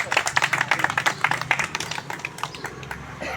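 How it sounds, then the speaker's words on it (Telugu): Audience clapping at an Independence Day honouring ceremony for retired army soldiers held by a neighbourhood association, a dense run of quick handclaps that stays fairly steady and thins slightly toward the end. "అందరూ గట్టిగా చప్పట్లతోటి"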